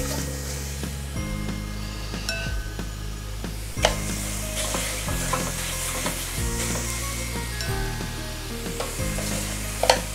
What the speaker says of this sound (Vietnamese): Tiếp tục áp chảo phần thịt còn lại.